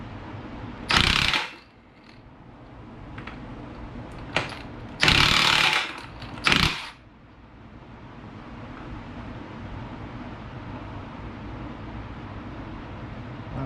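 Impact wrench fitted with a Snap-on 1 1/8 impact socket, working on the pinion nut of a 1966 Chevy C10 rear end: three loud bursts of rattling hammering, each a second or less, close up over a low steady hum.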